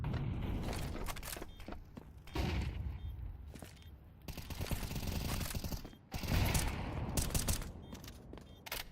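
Repeated gunshots and rapid bursts during a professional esports match, a three-versus-three bomb retake round, loud and clustered with brief gaps, footsteps and mechanical clicks scattered between.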